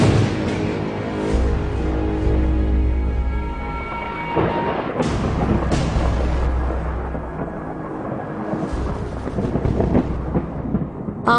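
Rolling thunder sound effect in a narrated story, a long loud rumble with several heavy booming swells and crackling peaks that builds and fades across the whole stretch, heard alone with no voice.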